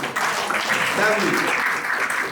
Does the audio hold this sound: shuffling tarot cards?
no